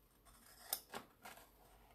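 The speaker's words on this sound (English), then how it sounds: "I'm going to cut along the bottom of the transfer" Scissors cutting along the bottom edge of a furniture transfer for a dresser, two or three quick close snips, soft and clean with no talk.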